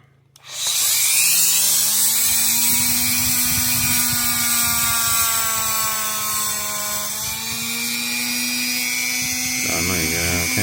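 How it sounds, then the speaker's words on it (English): A small wire wheel on a power tool whines steadily, holding a high pitch as it scrubs an engine part during a Toyota/Scion knock sensor replacement, loud and close for several seconds, its tone shifting slightly under load. "So now I'm gonna get a little wire wheel and clean this up a little bit."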